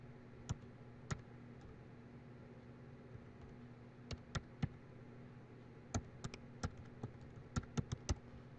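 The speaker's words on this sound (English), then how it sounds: "and type in your text" Computer keyboard typing: quiet, sparse key clicks in small uneven bursts over a faint steady hum.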